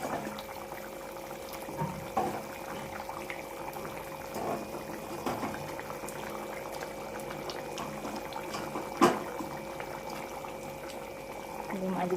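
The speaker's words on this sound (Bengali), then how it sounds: "এবার মাছ ঝোলটা ফুটে গেছে, এবার দিয়ে দেবো মাছগুলো" Fish curry simmers and bubbles in a pan as pieces of fish are added, a steady close boiling with a few soft plops and clinks, while someone talks over it.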